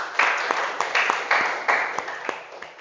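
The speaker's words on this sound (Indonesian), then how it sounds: "Kita beri aplaus untuk kita semua." A classroom full of students claps together, a close burst of rapid, uneven hand claps that thins out over a few seconds.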